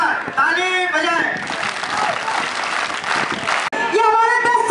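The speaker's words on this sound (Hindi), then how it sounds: "हाथ ऊपर ताली बजाएं" An audience at a devotional drama performance bursts into brief, dense clapping between stretches of amplified speech, loud and close in a lively hall.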